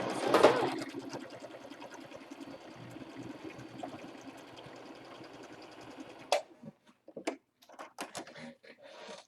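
Sewing machine stitching a fabric medical mask, a steady close whirring hum running for about six seconds before stopping, followed by a few scattered handling clicks and rustles.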